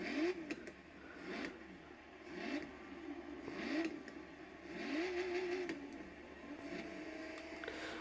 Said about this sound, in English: Right, let's give it a rev.